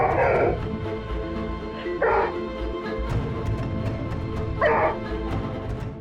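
A household dog gives three loud, close barks, spaced a couple of seconds apart, over a low, rumbling growl.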